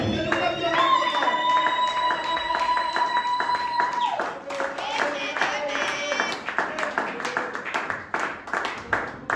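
A church congregation claps and cheers to acclaim the Lord, with rhythmic clapping and shouting blended with loud sustained singing or music, while a voice speaks over the crowd.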